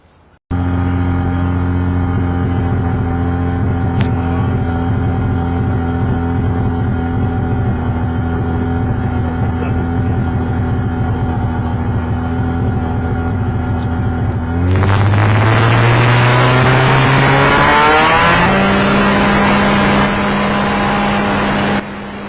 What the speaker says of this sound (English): I'm going to taxi the plane down the other end of the runway